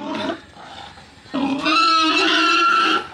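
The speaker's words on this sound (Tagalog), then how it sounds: "Hal-hal ng baboy." A mother pig squeals and roars loudly while being caught, in harsh bursts with a short lull, close by and with no talk over it.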